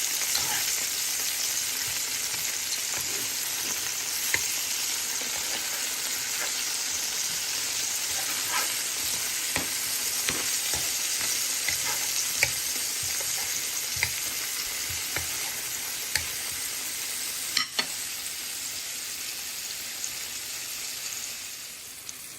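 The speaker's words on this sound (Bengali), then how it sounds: "এরকম একটু পুড়িয়ে পুড়িয়ে কালো কালো করে ভেজে নিয়েছি।" Pumpkin pieces fry in a pan until charred and blackened, giving a steady, close sizzle with scattered crackles and occasional sharp pops and scrapes, and no voices.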